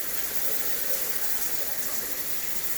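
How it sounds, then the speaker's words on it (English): Water gushing steadily from a Moen shower diverter, a dense, even hiss of running water that holds at a constant level throughout, close and alone without voices. "you can see the water coming through there"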